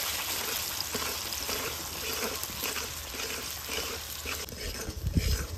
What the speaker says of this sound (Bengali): গরম তেলের মধ্যে এই মিশ্রণটা দিয়ে দেব